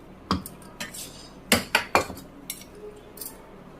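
Several sharp clinks and scrapes of a spoon against metal vessels as boiled, cooled chutney ingredients are transferred into a mixer jar, coming in irregular bursts close by, with quiet pauses between them.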